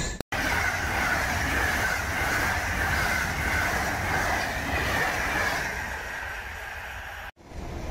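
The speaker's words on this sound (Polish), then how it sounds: "przed budynkiem stacji Oberbarmen, budynkiem kolei podwieszanej w Wuppertalu" Wuppertal Schwebebahn suspended railway train running near Oberbarmen station, a loud, steady rumble and rattle that holds for about seven seconds with no talk.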